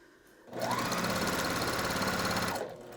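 Close, steady rattling hum of a sewing machine stitching a quilt block, running for about two seconds between quieter moments, with no voices.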